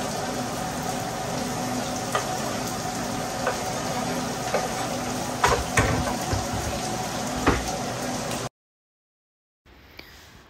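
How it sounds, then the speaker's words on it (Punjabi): A steady, close crackling sizzle of frying oil for a dal tempering, with occasional sharper pops, then it abruptly cuts to silence before resuming faintly. "ਲੋ ਆਪਾਂ ਲਾ ਲਈਏ ਤੜਕਾ"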